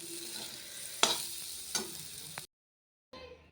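Food frying in a pan while being stirred: a close, steady sizzle with a couple of sharp scrapes and knocks of the utensil, briefly cut to silence before the sizzling resumes.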